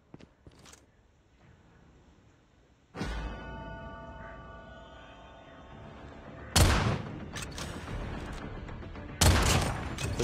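Gunfire in a video game sniper fight: a few sharp, loud shots a couple of seconds apart, each ringing out with a short echoing tail over quieter background game sound.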